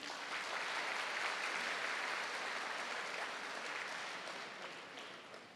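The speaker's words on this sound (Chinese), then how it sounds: "那么我们也给自己一个掌声。" Applause from a choir audience at a choral exchange concert in Muar, sustained moderate clapping throughout that slowly tapers off toward the end.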